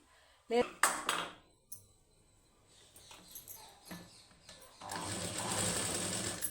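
A sewing machine stitches a plain high-neck blouse, running in short bursts and then a steady continuous whir near the end, quiet and close, with a faint voice early on.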